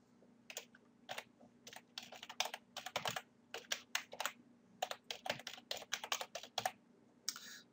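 A name is typed on a computer keyboard into an online form: quiet, brisk bursts of key clicks in uneven runs over a low steady hum, recorded close with no talking.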